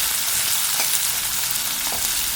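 Onions with salt fry loudly in a pan for a poori masala, a dense, constant close-up sizzle with faint stirring scrapes, and no talking.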